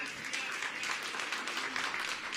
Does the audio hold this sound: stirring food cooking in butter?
no